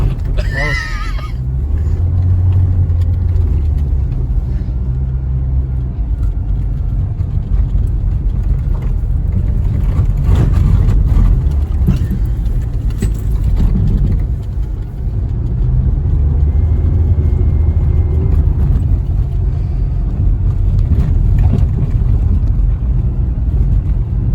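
A Saturn car accelerates on a slick road while its traction control intervenes, giving a loud, close engine drone with road rumble that rises and falls over about twenty seconds, with occasional voices mixed in.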